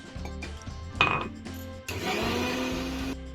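An electric mixer grinds masala, turmeric, tomato, ginger, curry leaves, coriander and water. Short clinks and brief whirring bursts come first, then a loud, steady grinding whir runs for over a second before stopping.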